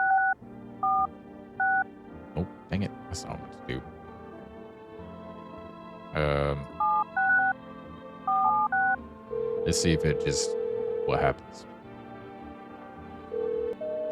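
Telephone keypad tones being dialed in the video game No I'm Not a Human, short bursts of paired beeps in a few groups, with someone talking over and between them.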